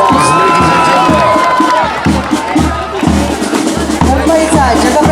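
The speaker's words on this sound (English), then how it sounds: "Definitely a performance worthy of your applause, ladies and gentlemen." A crowd at the Mumbai Republic Day parade cheers and shouts, with children's voices prominent, after a human pyramid performance in front of the dais; the cheering is loud and close, with lively swells and a rhythmic pulse underneath.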